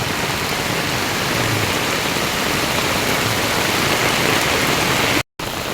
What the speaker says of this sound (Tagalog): Malakas ang ulan. Yung volume ng ulan ang malakas.